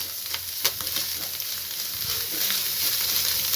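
A wheat flour and onion mixture with Maggi masala and coriander leaves is mixed in a hot pan, sizzling steadily with sharp spatula clicks and scrapes near the start. No voices are heard.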